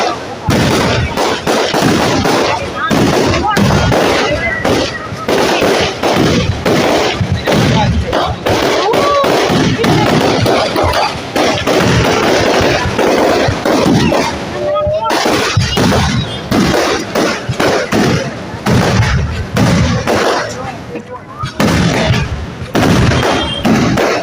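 Fireworks at a temple Bharani festival in Kerala, aerial shells bursting in dense, continuous loud booms and crackles, close and overlapping with barely a pause, with voices faintly under the barrage.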